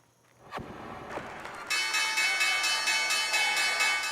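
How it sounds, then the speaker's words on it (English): The closing bell at the Wall Street stock exchange rings out in a sustained, bright, continuous peal after a couple of sharp knocks, loud and steady to the end. "The Red Cross rang the closing bell on Wall Street, perhaps fitting for a market in medical distress."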